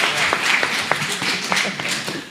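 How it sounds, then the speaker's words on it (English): Audience applause at a Japanese speech contest in Kenya: a steady wash of many hands clapping, with sharper individual claps standing out now and then, sustained throughout at moderate loudness. "big round of applause for that one"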